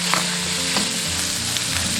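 Minced meat stir-fried in a little oil with scallion, ginger, garlic, chili rings, a spoon of chili bean paste and a splash of cooking wine, a loud steady sizzle with scraping stirs throughout and no talking.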